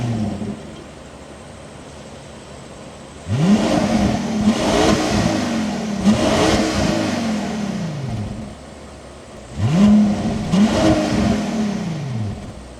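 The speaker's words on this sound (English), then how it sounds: "I do want to go ahead and show you guys how this car sounds like" Exhaust of a Mansory Rolls Royce Phantom recorded right beside the tailpipe, loud and close, with two separate rev blips that each rise sharply and then fall back to a steady low idle.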